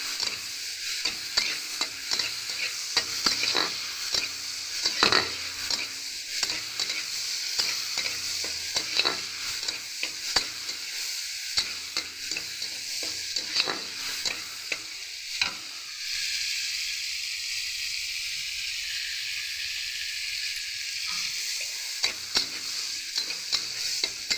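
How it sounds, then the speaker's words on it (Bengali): Prawns fry in oil in a pan in a rustic village-style kitchen, a steady bright sizzle broken by repeated scraping stirs and clinks, close and alone, with a smoother hiss late on. "মাছগুলোকে আমি হালকা পরিমাণ কিন্তু লাল লাল করে ভেজে নেব"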